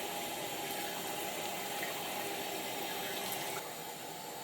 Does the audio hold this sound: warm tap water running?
yes